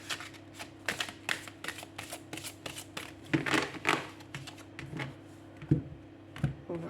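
Tarot cards from a bienveillance deck are shuffled and drawn by hand: a steady run of soft, papery riffles and flicks, close and fairly quiet, with no talking.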